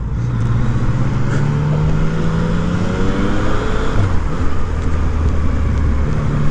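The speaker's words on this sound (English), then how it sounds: "I like the way this 3-cylinder sounds" A 2020 Yamaha MT-09 three-cylinder motorcycle being ridden, its engine droning loudly and steadily with rising and falling pitch through gear changes, heavy wind rush mixed in.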